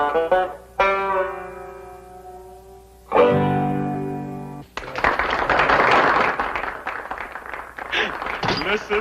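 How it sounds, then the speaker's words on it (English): An audience claps in a 1960s Beverly Hillbillies scene, a sustained burst of applause rising after a few loud tonal notes and carrying on for several seconds. "The minute I walk through the door, they commence clapping."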